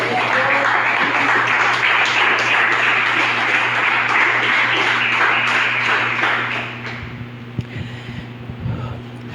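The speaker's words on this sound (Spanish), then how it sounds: "Dale un aplauso al Señor" Sustained congregational applause fills a church service for about seven seconds, loud and dense, then thins out into scattered claps and quieter room sound with a low steady hum underneath.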